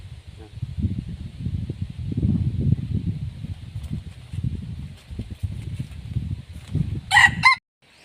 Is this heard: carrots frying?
no